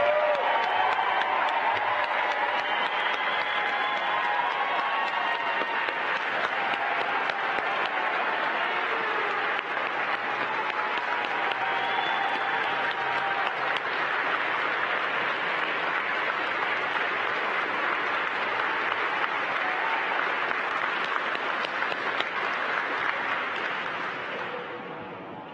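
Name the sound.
audience applause for NASA astronaut candidates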